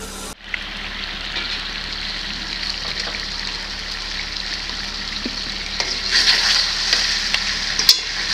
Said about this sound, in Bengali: মাংসটাকে এবার আমি ঢাকা দিয়ে দিয়ে একটু কষিয়ে নেব।